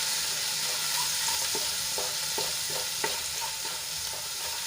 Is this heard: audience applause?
no